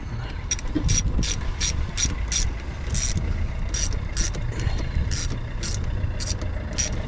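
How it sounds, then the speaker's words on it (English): A quarter-inch ratchet tightens clips on a Vauxhall Cavalier Diplomat 2.0i, giving short bursts of rapid metallic clicking that repeat at a regular pace over a low background rumble. "Trying to tighten these up with my lovely new quarter-inch ratchet."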